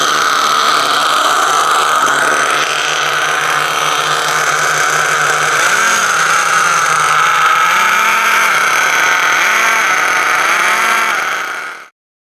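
A twin-engine nitro RC model's two small engines run loud and steady at a high idle, with slight beating between them and brief rev swells near the end before cutting off abruptly.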